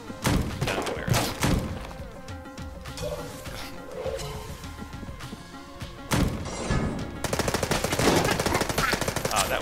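Rapid gunfire and thudding impacts from a bullet shark enemy in Enter the Gungeon, dense bursts through the whole stretch and heaviest near the end, loud and with no voices.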